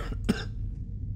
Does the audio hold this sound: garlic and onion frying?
no